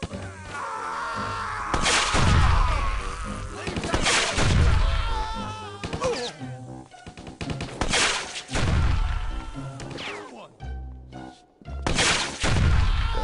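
Gunfire in Stubbs the Zombie, with loud booming shots spaced every couple of seconds alongside chaotic game effects and a cluttered, tonal sound bed, and no clear talk.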